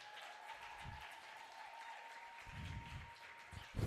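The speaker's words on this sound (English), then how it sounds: "You deserve a round of applause." Faint, distant applause from an audience carries on steadily beneath a constant background hum, with a few low thumps breaking through.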